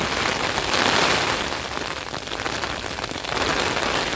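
Steady rain falling on a surface, a continuous dense hiss with slight swells in intensity.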